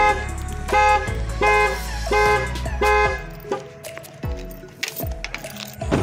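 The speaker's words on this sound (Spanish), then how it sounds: "Se me activó la alarma de la troca." A Hummer H3 truck's car alarm blares nearby in rhythmic repeated horn-like tones, about five evenly spaced blasts followed by a few irregular chirps and clunks.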